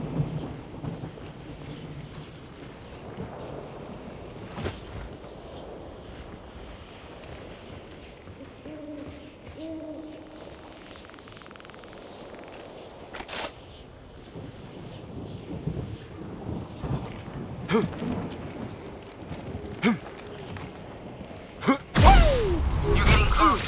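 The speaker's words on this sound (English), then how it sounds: "You're getting close to a surge storm, a hotbed of nano activity" Surge storm thunder in the video game Dead Sector, with rolling rumbles, sharp cracks and steady rain-like hiss building over the span, ending in a loud crashing burst; bird-like chirps sound briefly.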